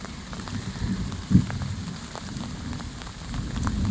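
Steady rain falls on a garden, a dense close patter with low rumbling body and a brief louder splash near the middle, continuing alone without voices.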